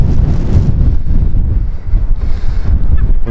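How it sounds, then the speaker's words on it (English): Strong gusts on a clifftop walk along the sea at Filey, rumbling and buffeting a handheld camera's microphone, loud and continuous with low thumping surges and no speech. "Wow, the wind's buffeting the camera around a bit."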